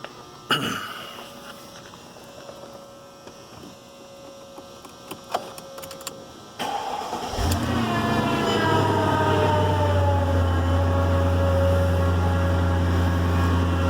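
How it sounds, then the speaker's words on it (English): A 2004 Mercedes-Benz E55 AMG engine cranks and fires up around seven seconds in, then settles into a steady, loud idle with a deep low drone after some quiet handling noises. "let's start this car real quick"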